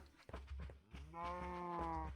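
A cow in a farming video game gives a drawn-out moo that builds and holds steady, preceded by a few short clicks and thumps, close and clear with no talking.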